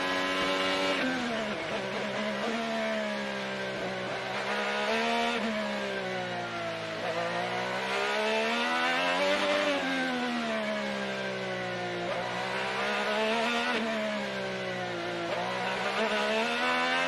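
Onboard an IndyCar driven by Agustin Canapino on the St. Petersburg street course, the engine screams loud and close, rising and falling through repeated upshifts, downshifts and corner braking without a break.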